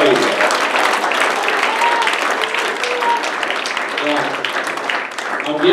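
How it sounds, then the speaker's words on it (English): A church congregation clapping their hands in praise during an altar call, dense continuous applause filling the room, loud and close, with voices and some tonal sounds mixed in beneath the clapping. "Somebody give the Lord a big hand clap of praise."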